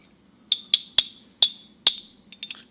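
Ancient bronze finger cymbals are struck hard, giving five bright, ringing metallic clinks in close succession followed by a few softer quick taps, close and alone over a faint low hum.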